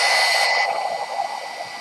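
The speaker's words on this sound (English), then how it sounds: "I'm going to finish them with the heat tool" A heat tool blows with a steady whirring hiss over craft paper, loud at first and then softening slightly as it moves, no voices.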